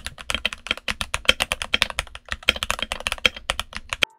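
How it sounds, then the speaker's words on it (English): Rapid clacky keystrokes on a modded Redragon mechanical keyboard with Milky Yellow switches and carbon SA double-shot ABS keycaps, irregular bursts of close, crisp clicks with no talking. "loaded a set of carbon SA double shot ABS keycaps on there with the Milkies and did a sound test."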